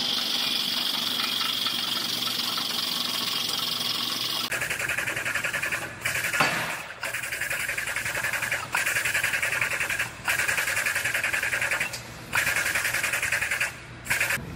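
Hydraulic autobody frame machine over-pulling a car frame to correct side sway in a body shop, a steady close mechanical hum and whine running continuously, with brief dips and short pauses in the drone.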